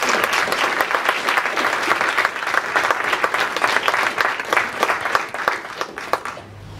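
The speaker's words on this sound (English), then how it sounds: "So please give her a round of applause." A conference audience claps steadily and loudly for several seconds, a dense wash of applause that thins out and fades near the end.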